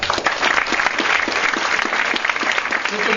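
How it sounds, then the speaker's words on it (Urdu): An audience claps for a man called up onto the stage, producing loud, sustained applause with a fairly steady rhythm and no talking. "ان کے لیے ذرا تالیاں بجا دیں"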